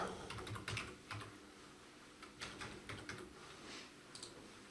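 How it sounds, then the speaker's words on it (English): A computer keyboard being used to type a username and password, light, quiet key clicks in short irregular bursts, close but faint. "I just have to type in my username and my password."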